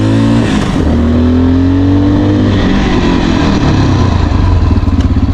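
A motorcycle ridden in second gear at about 40 kph, its engine loud and near, pulling steadily and then dropping in pitch as it slows under the front brake.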